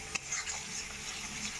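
Spices with tomato paste get stirred in a frying pan, a faint soft scraping over a gentle steady sizzle, with one light clink near the start.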